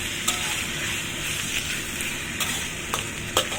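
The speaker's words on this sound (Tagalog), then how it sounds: "Fry lang natin yan hanggang mag-golden brown." Chicken pieces frying in a pan, cooked until golden brown, with a steady close sizzle throughout and a few sharp pops and stirring clatters.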